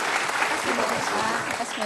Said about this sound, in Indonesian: Kita berikan tepuk tangan untuk mereka dulu.